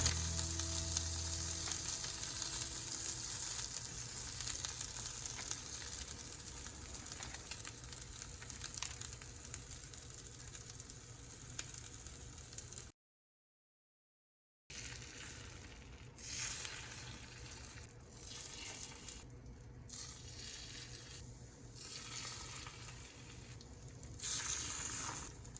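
Cod jeon pan-frying until golden for a Chuseok holiday platter, a steady close sizzle and crackle of oil that runs on alone, breaks off briefly, then returns with more uneven spattering.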